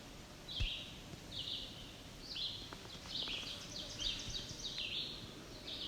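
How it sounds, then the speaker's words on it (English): A black and white warbler gives a few dry, sharp ticks amid woodland at Juniper Flats, over a steady backdrop of another bird's repeated high song phrases. "It appears to be a black and white warbler ticking."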